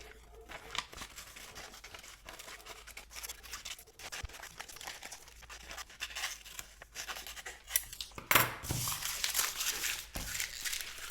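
Scissors snip and crinkle through paper while cutting out patterns for a simple leather mask. The cuts come as quiet, irregular close-up rustles, with a louder crumple near the end.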